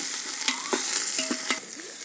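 Turmeric-ginger paste frying in hot oil in a pan for sambar, with a steady close sizzle and a few scraping stirs of a spoon breaking through it.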